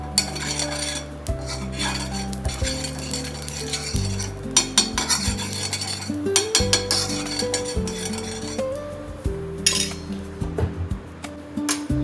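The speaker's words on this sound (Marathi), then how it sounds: "तुपाने छान असं ग्रीस करून घेता." Ghee sizzles in a hot pan as a utensil spreads it around before paratha batter goes in, with steady frying hiss, metallic scraping and clinks up close, and a low tonal hum underneath.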